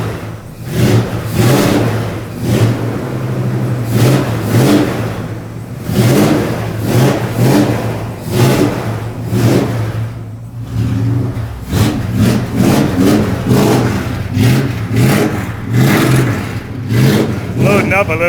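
Engine of a 1973 Plymouth Duster revving under throttle on a road test: loud, rough surging rises and falls close by, with people talking over the running motor.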